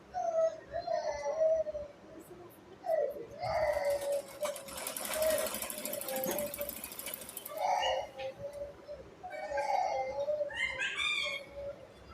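Sewing machine stitching a round gathered petticoat, a steady mechanical whirring rattle running in bursts, with background noises and faint vocal sounds around it.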